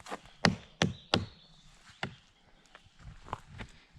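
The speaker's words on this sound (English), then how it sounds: "You can hear it just hollow all the way through." Several sharp, hollow knocks on a hollow dead tree trunk at an uneven pace, fairly quiet, with faint outdoor background in between.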